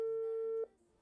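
A telephone call tone as a father rings home: one steady electronic beep that holds for about two thirds of a second, then cuts off to near silence.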